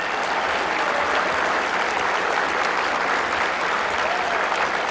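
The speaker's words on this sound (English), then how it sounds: "this is where we need to give them a round of applause" Steady, dense audience applause at a game-company fan welcome reception, loud and continuous throughout with no voices above it.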